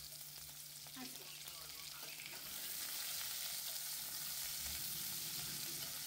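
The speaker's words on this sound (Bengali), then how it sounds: "তেলটা গরম হওয়ার পরে পেঁয়াজটা অল্প ভাজা হওয়ার পরে নেক্সট আমি ডালবো" Onion frying in hot oil for a Bengali-style egg curry, a steady soft sizzle that swells louder about halfway through, with occasional faint stirring clicks and no voices.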